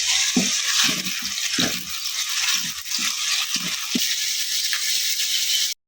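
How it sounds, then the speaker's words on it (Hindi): Ginger garlic paste frying in a pan for ridge gourd sabzi, a steady loud sizzle with repeated scraping strokes of a spoon, no talking. "मैंने अदरक लहसुन का पेस्ट डालने लगी।"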